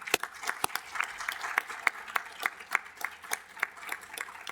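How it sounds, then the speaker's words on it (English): A small round of applause at a council committee meeting in a room, a few people clapping with distinct individual claps in an irregular rhythm, fairly sparse and close. "one more round of applause is in order"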